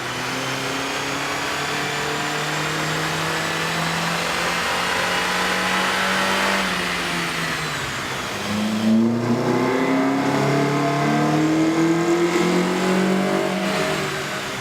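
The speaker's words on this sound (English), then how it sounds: "Here's a comparison of the Altima sound on the dyno with the stock OEM system versus AEM's air" A Nissan Altima 2.5L engine with an AEM air intake revs up loudly on a dyno, holds, drops off, then climbs again in a sustained roar, close and with no voices.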